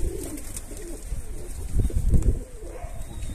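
Low, soft cooing from a pigeon or dove, repeated a few times against a steady background hum, with no one speaking.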